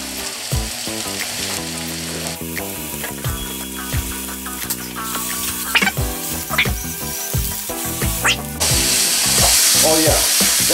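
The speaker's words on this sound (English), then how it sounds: "next thing we're adding, high heat, some portobello mushrooms" Portobello mushrooms frying over high heat in a pan: continuous loud sizzling with scraping, clattering stirring sounds and a surge of crackle near the end.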